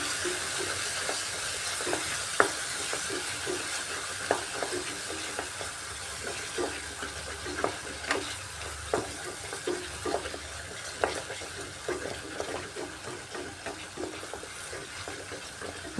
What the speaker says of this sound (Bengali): সব কিছু দিয়ে মশলাটাকে এখন আমি কষাচ্ছি ভালো করে খুব ভালো করে কষিয়ে নিতে হবে